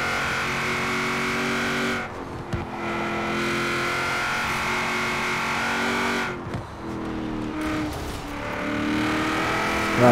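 Car engine in Forza Horizon 4, driven with a steering wheel, hums steadily and loud with shifting pitch as it accelerates, with brief dips where it eases off before revving back up, no talking over it.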